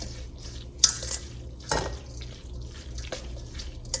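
Seasonings, including Creole seasoning, are stirred into a bowl of pasta salad, giving soft scraping and clinking utensil strokes against the bowl at an irregular pace, close and moderately quiet.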